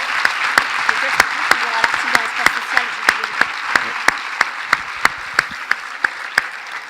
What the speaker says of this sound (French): Et on peut les applaudir très fort